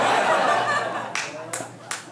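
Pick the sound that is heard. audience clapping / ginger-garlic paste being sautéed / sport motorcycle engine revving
audience clapping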